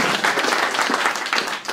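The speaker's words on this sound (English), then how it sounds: "So please, nice warm round of applause." A conference audience gives a warm round of applause to welcome a speaker, a brief, dense patter of clapping from a sizeable crowd with faint voices beneath.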